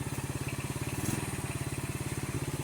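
An old, restored motorcycle engine runs nearby with a fast, even putter of regular pulses, steady and moderately loud, with no talking.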